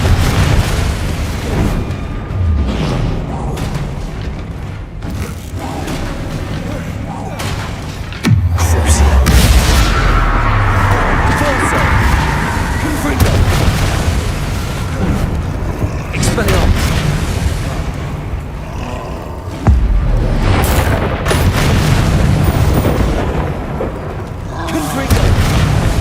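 Explosions from the Confringo fire spell in Hogwarts Legacy, heavy booming blasts recurring through a loud, dense combat mix, with sharp hits near 8 and 20 seconds and spell-casting voices under the din.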